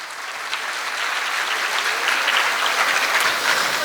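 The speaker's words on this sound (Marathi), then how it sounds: "तर शिक्षकांच्या मेहनतीसाठी एकदा जोरदार टाळ्या व्हायला पाहिजे" An audience at a school annual day applauding for the teachers, a dense, steady burst of clapping from a crowd, loud and sustained throughout.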